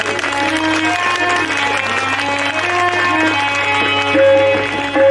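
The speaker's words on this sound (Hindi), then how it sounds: "सभी लोग जोरदार तालियां हो जाएंगे।" A crowd applauds loudly at a welcome ceremony where a guest is garlanded, sustained clapping mixed with prominent melodic music playing throughout.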